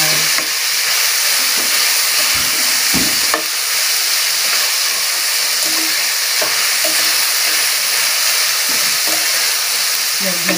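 String beans (sitaw) cook in a pan with a steady, close sizzle and frying hiss, broken by a few stirring scrapes and clinks.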